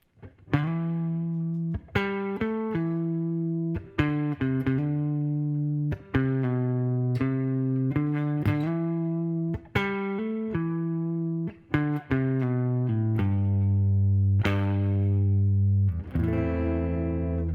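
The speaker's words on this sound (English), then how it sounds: "The only other thing to add is the actual guitar solo." A sustained, distorted electric guitar plays a simple melodic solo, notes held and bent in steady phrases, loud and alone.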